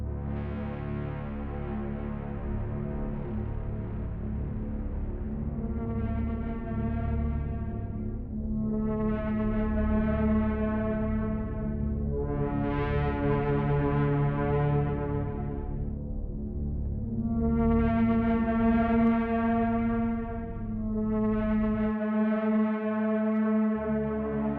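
Astral Analog patch from Red Room Audio's Sounds from Beyond synthesizer library, played as sustained chords that swell in and out one after another over a steady low drone, ending in a brief drop in the bass.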